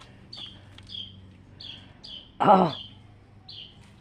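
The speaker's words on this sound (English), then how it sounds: "Oh, there's a bird right here." A small bird near its nest gives short high chirps repeated about every half second, moderately close, while a person briefly exclaims in the middle.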